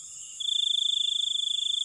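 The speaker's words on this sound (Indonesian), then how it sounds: "Jangkrik." Crickets chirp in the dark near an oil palm plantation. A loud, fast, pulsing trill starts partway through and holds steady over a fainter constant insect drone, with no voices.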